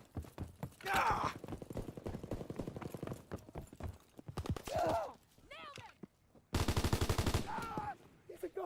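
Automatic gunfire in a shooter video game, a burst of rapid shots landing amid other game effects and voices talking over the action.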